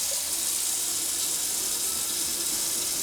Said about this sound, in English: Let's get some hot water up in here.